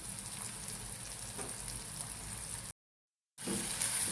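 Spices and salt stirred in a frying pan give a steady sizzle with faint scraping, broken by a short silent gap before the frying resumes.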